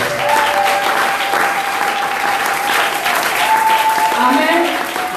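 A church congregation applauds steadily and loudly throughout, a dense continuous clapping from a large crowd with voices faintly mixed in.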